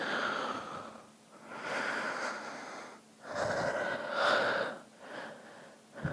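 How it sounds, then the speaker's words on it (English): A patient breathes heavily during a medical examination, a series of deep, loud inhalations and exhalations in uneven bursts separated by short pauses, close up. "Breathe heavily."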